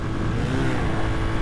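A CSC SG250 motorcycle engine riding at around 55 mph, a steady loud drone with rough low rumble and wind noise, continuous and close, no talking.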